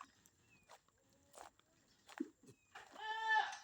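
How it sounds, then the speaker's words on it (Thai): Goats bleat on a Thai farm, scattered short calls at first, then a louder, longer wavering bleat near the end, with faint background sounds between. "ไปดูแพะกัน"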